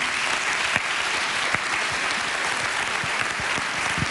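An audience at a dance show in Incheba, Bratislava claps in a steady, even burst of applause, dense and sustained from start to finish.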